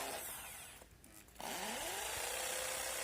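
An iBELL ID1380 650W impact drill bores a 13 mm hole in concrete with a loud, steady whine that drops out briefly, then surges back up to speed and keeps running, close and alone.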